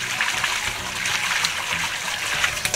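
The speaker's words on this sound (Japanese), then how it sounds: "よーく洗いましょう。 そうすることによって麺がすごく締まる" Soba noodles being rinsed by hand in water make a steady, close swishing and trickling with soft splashes throughout.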